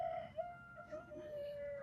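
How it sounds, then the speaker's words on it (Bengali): A rooster on a farm crows in one long, somewhat faint call over a steady background hum. "ও মরক ডাকছে গো"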